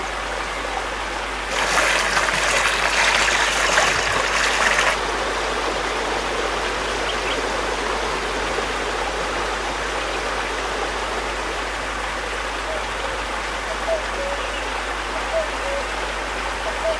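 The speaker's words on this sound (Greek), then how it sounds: "Το τραγούδι του καταράκτη" A waterfall and stream at Mount Athos pour out a constant, moderately loud rush of flowing water, with a brief brighter splashing burst near the start, steady and without voices.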